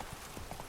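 Roach the horse trotting in The Witcher 3, hooves clip-clopping in a short, soft run of uneven steps beneath a low game backdrop, with no talk over it.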